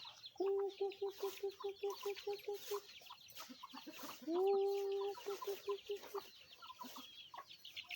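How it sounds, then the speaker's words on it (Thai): Fighting cocks at a rural Thai home give repeated clucks and drawn-out crowing calls, moderately close and fairly quiet, with faint background chatter. "เป็นไก่ชน"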